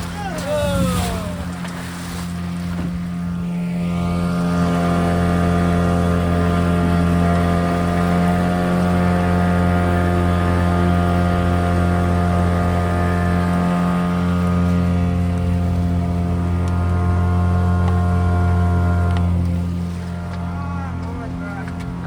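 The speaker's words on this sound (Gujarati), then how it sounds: "ફટાફટ વીજળી ભાઈ આપણે જવાનું હોડી જતા દરિયામાં" A boat engine at sea drones loud and close, a steady low rumble that builds up, holds for a long stretch, then eases off near the end.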